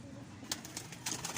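Pigeons cooing softly in a loft, a brief low murmuring coo with a faint flutter, heard close over background noise.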